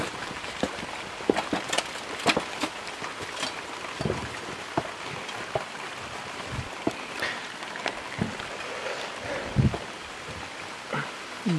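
Steady rain falling outdoors at a building site for an off-grid outdoor kitchen, a continuous patter with scattered louder drops on nearby surfaces, heard alone without talk.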